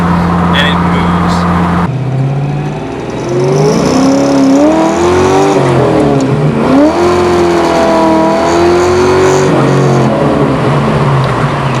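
A 1989 Ford Mustang LX with a V8 engine accelerates hard, its rising engine note sweeping upward through several gear pulls, loud and close throughout, with someone talking over it.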